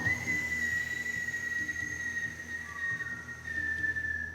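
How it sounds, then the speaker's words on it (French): A person draws air in through pursed lips during a kriya breathing exercise, making a thin, sustained whistle that runs steadily for several seconds over a quiet background. "Et inspirez en sifflant."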